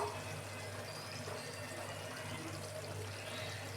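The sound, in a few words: water pouring into a mixer jar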